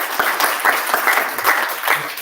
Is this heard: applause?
yes